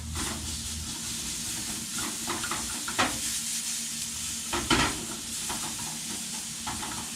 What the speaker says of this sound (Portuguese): A gente vai fritar a nossa cebola.